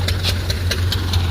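A Mahindra Yuvraj 215 tractor drives a groundnut thresher hulling J20 groundnuts, a steady low engine drone overlaid with regular, quick rhythmic thumps from the machine, close and fairly loud.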